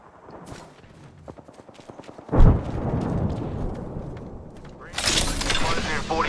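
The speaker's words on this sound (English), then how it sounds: "Taking fire." Gunfire in the video game Apex Legends: a sharp, heavy blast is followed by a rumbling stretch of rapid shots and clatter, then a brighter, louder burst near the end.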